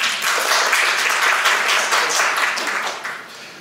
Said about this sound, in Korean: 큰 박수 환영 부탁드립니다